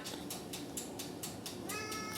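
A male cat meows over and over in quick, short bursts, close by and fairly insistent, with a few faint background noises.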